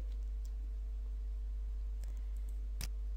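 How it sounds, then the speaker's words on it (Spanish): A computer mouse gives a sharp, close double click near the end, over a faint steady electrical hum in an otherwise quiet room. "Haremos doble clic"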